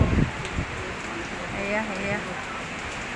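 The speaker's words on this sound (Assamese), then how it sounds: "বৰষুণ ধুমুহা বতাহ" A rain and wind storm makes a steady broadband hiss of falling rain and gusting air outdoors, while a person speaks briefly over it.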